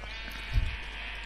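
A single short, faint sheep bleat from the video game Minecraft sounds once midway through, set against a quiet steady background hum.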